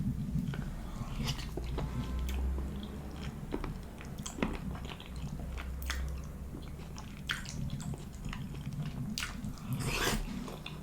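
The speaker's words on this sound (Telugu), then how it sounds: "First byte of haleem season." Close, wet biting and chewing of a mouthful of creamy Hyderabadi haleem, soft squishy chews with occasional small crunches repeating over several seconds, no talking.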